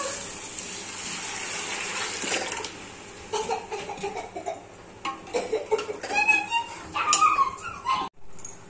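Kat water, the lentil stock, poured into a pan of katachi amti curry over fried spices, a gushing liquid splash that runs for several seconds and then trails into lighter clinks and splashes.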